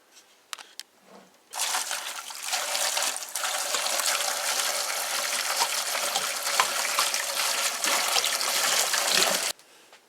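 Water pours steadily over a pile of dug-up old bottles and cone top beer cans for several seconds, a loud continuous splashing rush that begins abruptly after a few soft knocks and stops abruptly.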